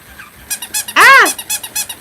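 A pet bunny squeaking, a run of short rhythmic chirps broken by one longer, louder rising-and-falling squeal in the middle, close and clear with no talking.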